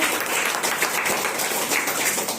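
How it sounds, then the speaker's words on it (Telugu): An audience at a political talk breaks into loud, dense applause, steady clapping throughout with no voices over it. "గట్టిగా చప్పట్లు కొడతాం"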